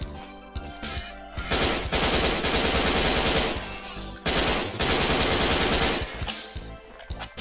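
Rapid gunfire from a shotgun in the Friday Night Funkin FPS video game, with two loud, dense volleys of shots filling most of the span and brief quieter gaps between them.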